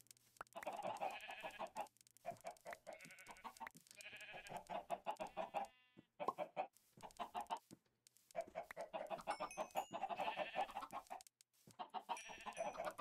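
Chickens cluck repeatedly in Minecraft, with bursts of farm-animal calls in uneven clusters, fairly close and loud, with brief pauses between.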